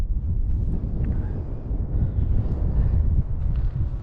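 Heavy wind buffets the microphone on a hilltop walk over Parkhouse Hill and Chrome Hill, a deep, continuous rumble, loud and close, with no talking.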